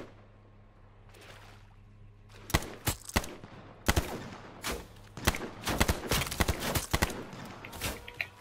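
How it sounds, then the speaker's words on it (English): Repeated gunshots from the online battle game H1Z1 during a lakeside firefight, a quiet stretch followed by a rapid series of sharp, loud cracks in clusters, some overlapping bursts fired close by. "Oh, somebody just shot. Yep, I'm getting shot at."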